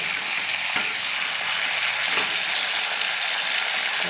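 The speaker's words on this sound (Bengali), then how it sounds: "পটলগুলো আমার হালকা ভাজা হয়ে গেছে, আমি তুলে নেব।" Pointed gourd (potol) pieces fry in hot oil, a dense, steady sizzle heard close up, with a few faint clinks of a utensil and no talking.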